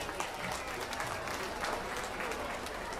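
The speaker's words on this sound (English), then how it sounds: "Let's give her a round of applause." Audience applause fills a youth swine market show ring, a steady dense wash of clapping from a crowd lasting the full stretch without pause.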